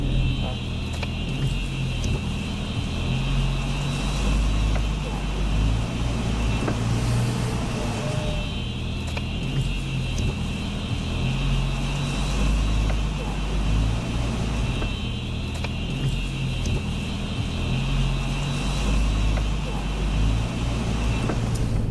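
Cars in the parking lot of Cedars-Sinai hospital create a continuous, fairly loud outdoor rumble of engines and traffic noise that holds steady for about twenty seconds.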